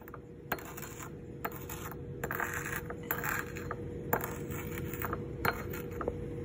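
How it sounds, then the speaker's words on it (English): Copper(II) sulfate crystals being ground up in a lab, faint irregular gritty scraping and crunching with small clicks, close and quiet with no talk. "I'm going to take these crystals of copper 2 sulfate and I'm going to grind them up."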